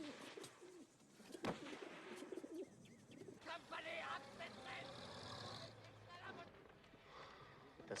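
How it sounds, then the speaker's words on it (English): English carrier pigeon cooing in a wartime battlefield setting, soft repeated coos mixed with voices talking and a low rumble of vehicles in the background. "This is a good little English carrier pigeon."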